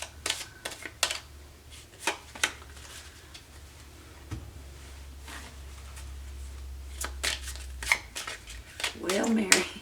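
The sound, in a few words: shuffling tarot cards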